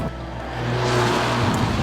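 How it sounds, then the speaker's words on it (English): A Mercedes A45 AMG five-door hatchback engine revs with a steady, loud, rasping roar that swells slightly and holds, heard close with no talk over it. "you could never accuse a car that sounds like this of being sensible"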